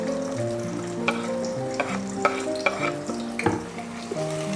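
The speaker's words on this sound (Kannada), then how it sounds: "ಇದನ್ನ ಕ್ಲೀನಾಗಿ ಒಂದು ಸಾರಿ ಫ್ರೈ ಮಾಡ್ಕೊಳ್ಳಿ" Sliced onions fry in oil inside a pressure cooker, throwing off a continuous loud sizzle broken by sharp scrapes and clinks as they are stirred, over faint steady background tones.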